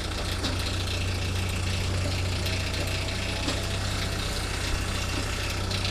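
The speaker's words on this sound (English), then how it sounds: "just rev your tractor up." Tractor engine with a PTO-driven Uniforest forestry winch, running near idle, a loud, close, steady low rumble with a knocking, vibrating texture that continues without change and without voices.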